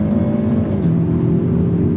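A 2022 Hyundai Elantra N engine revs steadily under throttle, a loud, close, continuous drone with a smooth rising pitch and no voices.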